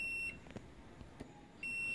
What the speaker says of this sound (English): You can hear the beep which indicate continuity